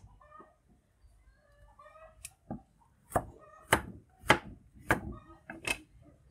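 A knife cuts through pumpkin squash on a board with a series of crisp, fairly regular chops that speed up and grow louder near the end, while chickens cluck faintly in the background.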